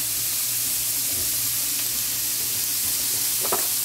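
Seafood with octopus browning in a pan for pescado a lo macho, a loud, continuous hissing sizzle with a few faint stirring clicks and no talk.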